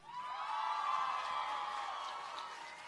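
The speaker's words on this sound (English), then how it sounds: "let's give one more round of applause for Beto." Crowd at an El Paso Strong rally honoring lives lost and protesting Trump, a sustained swell of cheering and whooping that carries steadily for about three seconds before slowly tapering, moderately distant.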